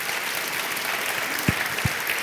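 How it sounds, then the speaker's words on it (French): Audience applause at the launch ceremony of Mois du Mentorat 2024, a steady wash of clapping from a crowd filling the short stretch, with two brief low thumps near the end. "Et ça s'applaudit très très fort"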